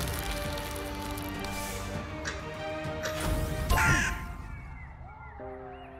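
A giant crow enemy in a tactical deckbuilder video game caws over continuous game music, with a crashing impact partway through before the sound thins out.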